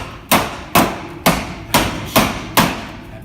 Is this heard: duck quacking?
no